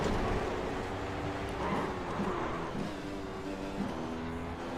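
An F1 car engine in the iRacing sim hums steadily at moderate, cruising revs, a continuous close drone with slight rises in pitch and no talk over it.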